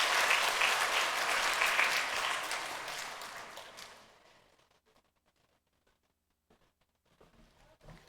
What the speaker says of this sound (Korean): 모든 영광을 박수로 하나님께 올려드립니다.